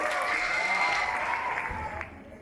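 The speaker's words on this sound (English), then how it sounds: "Please give them a round of applause." Audience applause for students after a Carnatic vocal performance at a school cultural exchange program, a broad wash of clapping mixed with crowd voices that fades toward the end.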